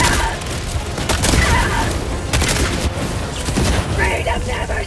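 Orbital barrage in Helldivers 2 pounding the area with dense, continuous explosive booms and rumbling blasts that overlap throughout, with voices in the game mix.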